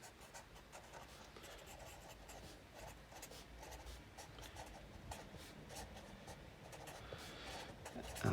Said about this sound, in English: I'll write down a little bit more about this though